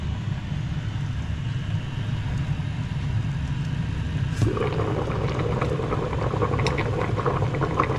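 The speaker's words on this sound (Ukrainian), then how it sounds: "Це буде кипіти у нас 30 хвилин." A steady low rumble of a pot boiling on a stove, with bubbling and faint clicks that grow slightly busier partway through.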